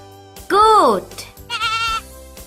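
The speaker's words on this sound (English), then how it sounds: "Goat." Goat bleating twice in close succession, loud and near, each a wavering nasal cry lasting about half a second.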